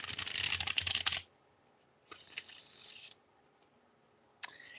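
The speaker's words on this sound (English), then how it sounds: "let me do a little preliminary shuffling of these cards" Tarot cards being shuffled by hand in three separate bursts of crisp riffling and flutter, close and fairly loud, with quiet pauses between them.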